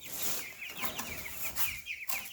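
Young meat-bird chicks, about 17 days old, peep and cluck in a chicken tractor on pasture, a busy overlapping chorus of high chirps that carries on steadily up close.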